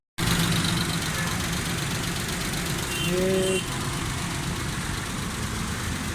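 A Suzuki Khyber pickup with a misfire and fuel problem idles steadily right after starting, a close, even mechanical chug with a brief rise in level midway and a word spoken near the start.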